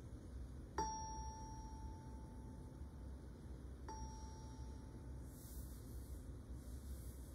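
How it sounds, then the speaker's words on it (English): Metal bar tuned to 880 hertz struck twice, each hit giving a clear bell-like ring that decays slowly over a faint steady background hiss. "Here is the first bar with a frequency of 880 hertz"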